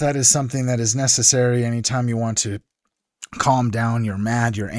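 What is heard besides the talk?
None of the usual background noises is heard.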